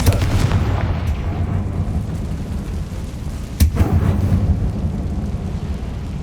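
Fiery Confringo spell blast in Hogwarts Legacy inside a closed mine tomb, a deep rumbling boom with a sharp burst near the middle over a low, continuous reverberant roar.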